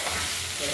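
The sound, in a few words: stirring banana stem with mustard and chili in wok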